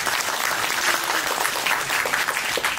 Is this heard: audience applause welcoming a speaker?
yes